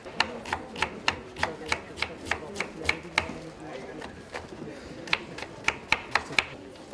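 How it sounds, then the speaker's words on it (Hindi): A knife chops onion on a board for a homemade pan pizza topping, making steady, evenly spaced crisp taps close by that pause briefly midway and then resume. "तो ये अनियन भी काट लेते हैं"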